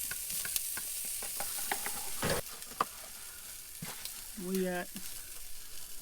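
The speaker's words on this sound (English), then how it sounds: "Probably smell my dinner cooking. The sausage back in." Sausage fries quietly in a pan over a camp stove, a soft sizzle under scattered clicks and knocks, with a brief spoken remark partway through.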